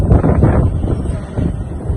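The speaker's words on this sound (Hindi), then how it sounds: "अभी हवा चल रही है, बहुत प्यारी हवा चल रही है।" Gusty evening wind in the Naran market buffets the microphone with loud, broad rumbling rushes, swelling and easing through the whole stretch, with faint background activity beneath.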